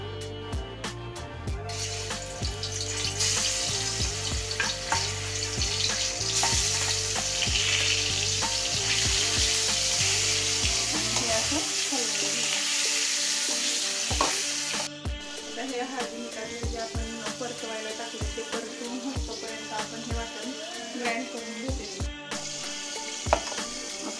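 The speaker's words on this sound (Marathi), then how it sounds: "हे आपण जे मॅरिनेट केलेले हळद, मीठ, आलं लसणाची पेस्ट आणि लिंबू टाकून जे मॅरिनेशन केलेले ते आपण आता डायरेक्टली ह्या तेलामध्ये सोडून घेऊ" Fish marinated in turmeric, salt, ginger-garlic paste and lemon fries in hot oil with a loud, continuous sizzle, later joined by scattered clinks and stirring sounds. No one speaks.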